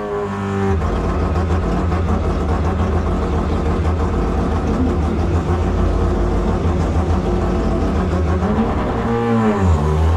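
Mazda rotary-engine prototype race car in a historic Gulf paddock, its engine droning loud and steady at close range with a dense, buzzing low roar, then a brief rev change near the end.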